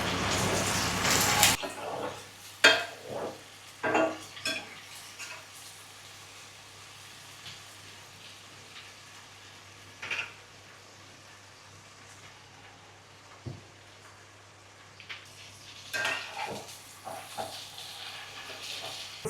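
Brinjals stuffed with a coriander spice paste fry in a little oil in a pan, giving a soft, steady sizzle broken by occasional utensil clatters and brief speech.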